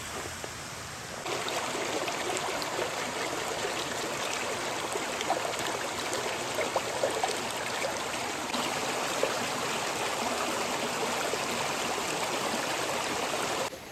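Muddy, reddish stream water rushes past in heavy rain at a night campsite among mango trees, a loud, continuous roar of flowing water close by with small splashes throughout and no talk.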